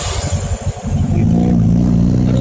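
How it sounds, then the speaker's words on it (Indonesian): A car engine revving hard and loud, rising into a sustained, steady roar after a rougher, pulsing start, close by. "Ini mobil suaranya kenceng banget."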